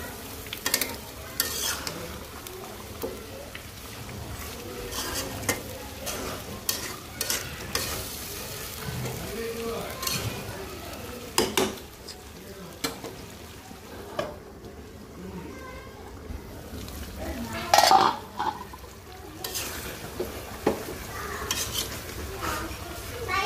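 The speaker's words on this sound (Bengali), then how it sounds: "ঢাকনাটা উঠিয়ে একটু পরপর নেড়ে চেড়ে দিব কষানো পর্যন্ত" Liver being stirred and fried in a covered pot, with steady sizzling and intermittent scraping stirs and clinks of a utensil against the pot, moderately loud and close, with occasional background voices.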